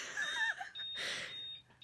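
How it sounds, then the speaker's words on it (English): A work computer's power supply beeps faintly and repeatedly indoors, with thin high tones over a steady low hum and no one talking. "is that beeping like terribly annoying?"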